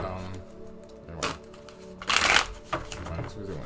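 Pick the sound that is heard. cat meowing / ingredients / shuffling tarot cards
shuffling tarot cards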